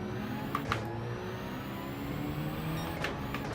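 Racing car engine in Gran Turismo, World Rally Challenge at Eiger Nordwand, droning steadily with shifting pitch as it changes up through the gears, continuous and close with brief sharper blips.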